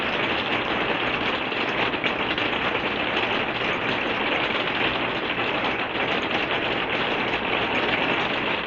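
Rain comes down steadily in the evening under a shelf cloud, producing a continuous, uniform wash of patter that neither builds nor fades, heard alone without speech.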